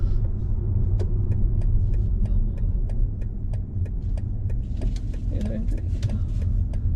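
An electric BMW iX1 rolling slowly on a road, a low steady rumble of tyres and cabin hum with faint ticking clicks, while a person talks over it.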